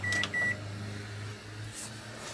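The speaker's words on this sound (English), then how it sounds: "you just press quick start for instance, and as you can see the microwave has come on" A caravan's microwave oven in an FC Swift Major 4EB starts on quick start: two short beeps, then a steady low motor hum runs on, close and clear.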